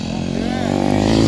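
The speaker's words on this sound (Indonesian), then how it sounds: "Tuh ada motor yang kuningnya." A Honda CBR 1000 cc sport motorcycle engine hums steadily and grows a little louder over a brief moment, with people talking over it.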